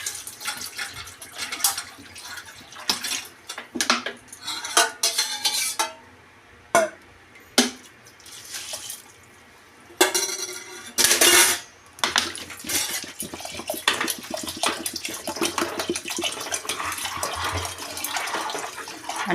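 Green peas rice being stirred with water in a metal pot for hirva vatana bhaat, with irregular scraping and clinking of a spoon against the pot and splashing water, close and fairly loud.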